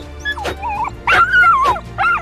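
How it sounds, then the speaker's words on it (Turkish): Several dogs in a video game bark and whimper in short, excited bursts with high, wavering whines between yelps, loud and close. "Köpekler hala kafesin etrafında İsmail, Tuğkan ve Kemal'e saldırmaya çalışıyordu."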